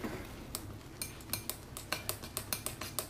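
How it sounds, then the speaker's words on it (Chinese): Chopsticks beat four eggs into cooked rice in a bowl, giving a quick, steady run of light clicks and clinks against the bowl. The sound is close and fairly quiet, with no talking. "打完四个鸡蛋后我们用筷子把它打匀"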